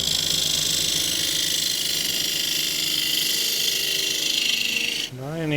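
A woodturning gouge cuts a small wooden dish on a spinning lathe, a continuous loud rasping, whirring tone that holds steady, then cuts off abruptly near the end as the lathe winds down.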